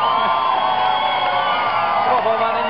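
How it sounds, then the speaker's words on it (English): A television studio audience cheers and whoops for the undefeated Golden Bomberman, a dense, steady crowd roar that holds loud and continuous throughout with scattered shouts rising above it. "Round of applause for Golden Bomberman"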